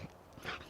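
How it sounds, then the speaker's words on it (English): A pet dog named Abby gives a faint, brief whimper outdoors, soft and close, over low background noise. "This is Abby, my pup"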